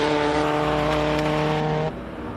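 Loud race car at a hill climb event, a powerful steady engine note with strong harmonic drone held close by, then dropping abruptly in level near the end as it moves off.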